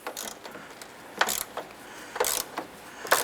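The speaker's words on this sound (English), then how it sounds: "as you're removing this bolt here, you can see the strut assembly starting to move" A hand ratchet clicks in short bursts while a strut assembly bolt in the cowl area of a 2007-2012 Nissan Versa is backed out, its close metallic pawl ticks repeating at a steady rhythm.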